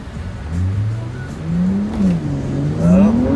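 A BMW E92 M3, just back from rod bearing replacement, accelerating hard in steps. The engine note climbs, drops at each shift and climbs again, loud and close, with a faint voice in the background.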